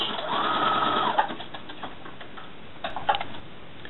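Home sewing machine running a zigzag stitch across a sweatshirt, a steady mechanical whir for about a second, followed by faint clicks and handling noises.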